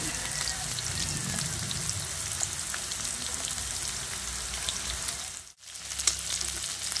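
Laruka fries in hot oil with a dense, steady crackling sizzle that is close and continuous. A brief dip comes near the end before the frying noise resumes.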